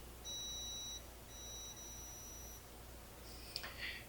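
A multimeter gives a thin, steady continuity beep twice during a repair of a vintage Sansui QRX-5500A quad receiver, against a faint background hum, and a small click follows.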